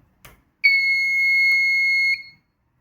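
A wireless plug-and-play doorbell buzzer alarm sounds a loud, close, steady electronic tone for about a second and a half, preceded by a faint click, then stops abruptly.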